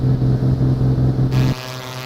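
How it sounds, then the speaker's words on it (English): Propeller engine of an A2A Comanche light aircraft in Microsoft Flight Simulator running with an odd, rough chopping pulse, loud and steady with a regular beating rhythm, then abruptly cutting to a thinner, smoother drone near the end. "I'm hearing some odd sounds from my engine right now"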